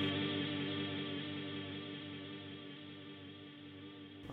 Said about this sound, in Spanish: La primera perilla Decay lo que hace es controlar qué tan largo va a ser el reverb.